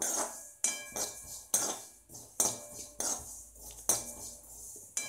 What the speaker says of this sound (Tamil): எள் வந்து வருபடும் பொழுது உங்களுக்கு பட பட பட படன்னு சவுண்டு கேட்கும்